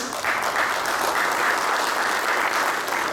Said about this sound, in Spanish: Le agradecemos con un fuerte aplauso, por favor.